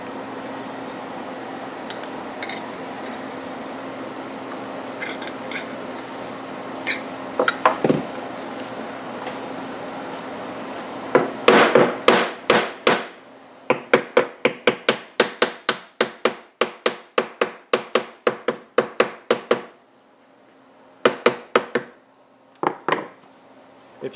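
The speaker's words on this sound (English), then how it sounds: "if you lay it on a solid surface, you can tap it down pretty flat" A hammer taps a reed stop flat against a solid surface, first a few scattered knocks over a faint steady hum, then a long run of sharp, close, rapid taps with short pauses between bursts.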